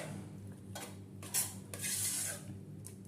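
A spoon stirs five-lentil khichuri with garam masala in a pot: a few soft scraping strokes and light metallic clinks, fairly quiet, with a faint sizzle underneath and no voices.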